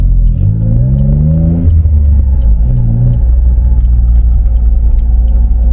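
A car engine revs up with a rising, throaty growl, then settles into a loud, steady idle rumble close by.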